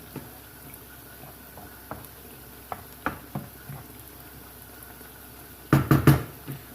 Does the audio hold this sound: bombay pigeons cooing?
no